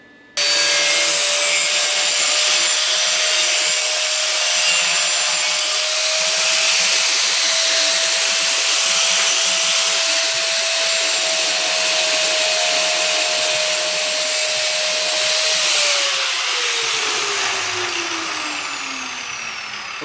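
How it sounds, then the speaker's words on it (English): An angle grinder grinds down the welds around nuts welded onto a steel sway bar bracket for a 1968-72 Chevelle, GTO or LeMans. It gives one continuous, loud, close whine with a harsh grinding hiss, then the pitch drops as the tool spins down. "I'm all done grinding the welds around the nuts that I welded on"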